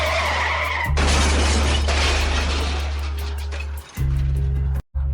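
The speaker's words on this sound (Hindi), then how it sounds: "दिल्ली कैंट से बाहर आते ही उनकी गाड़ी का एक्सीडेंट हो गया।" A speeding car skids with a long hiss and low rumble, then crashes into a burst of shattering glass, followed by a few shorter thuds and a sudden cutoff; no speech.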